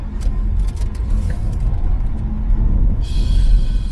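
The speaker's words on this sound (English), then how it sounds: "just a 0 to 100 dash over here in normal mode" A NETA S electric sports saloon accelerates from 0 to 100 in normal mode, heard as a loud, steady low road and motor rumble that swells slightly toward the end, with no talking.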